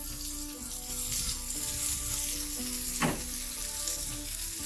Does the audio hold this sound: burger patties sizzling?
yes